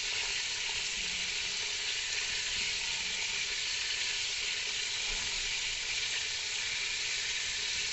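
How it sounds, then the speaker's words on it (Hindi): Potato koftas fry in about half a cup of hot oil, giving a steady, dense, loud sizzle that holds unchanged throughout with no talking. "ऑयल डालने के बाद 1 बाय 1 सारे कोफ्ते इसके अंदर डाल देंगे।"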